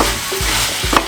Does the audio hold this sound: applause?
no